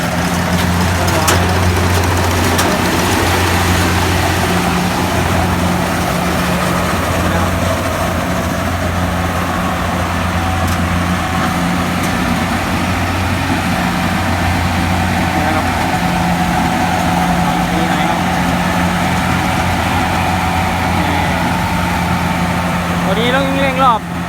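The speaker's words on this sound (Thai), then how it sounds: "เพราะว่าเราทดรอบเครื่อง เครื่องก้อใหม่" An old, homemade village combine harvester engine runs steadily nearby, a loud low drone with a constant throbbing hum that holds for over twenty seconds.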